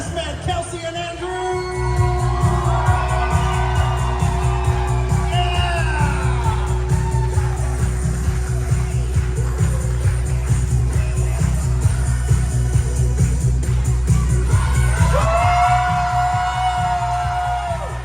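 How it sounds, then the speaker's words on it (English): Wedding reception guests cheer, whoop and shout for the maid of honor and best man over loud thumping dance music with a steady beat, the crowd noise swelling and fading throughout. "a big, big round of applause for your maid of honor and best man, Kelsey and Andrew"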